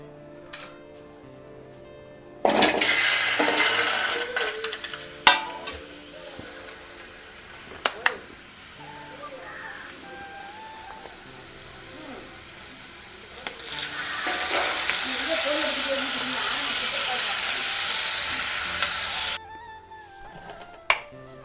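Onions and tomatoes fry in a pan on a stove for a chicken dish, opening with a sudden burst of sizzling that settles into a steady crackle with occasional clinks and stirs, then swells to a louder, hissing fry before cutting off abruptly.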